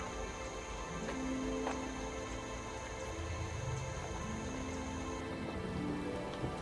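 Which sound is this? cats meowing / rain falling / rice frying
rain falling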